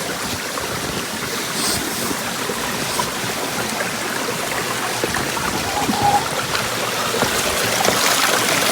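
A small river on the Sharavathi in the Malnad region rushes and gurgles steadily nearby, a continuous broad watery wash with no voices.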